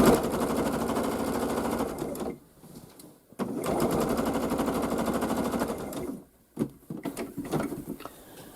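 A sewing machine stitches quilt binding strips in rapid, close mechanical bursts, with two brief pauses where it stops, then short stop-start runs and a few handling clicks.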